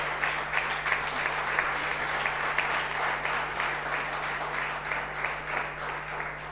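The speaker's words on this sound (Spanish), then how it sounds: "Denle un fuerte aplauso al Señor entonces." A church congregation claps in sustained applause, many hands beating together at moderate distance over a low electrical hum.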